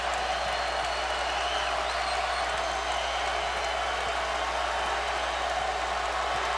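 A college basketball arena crowd at Hawaii vs Boise State, tied late in the game, keeps up a steady, dense roar of cheering and applause for the whole stretch, sitting close and fairly loud.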